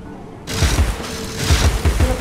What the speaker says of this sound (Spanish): yo le disparo a la caja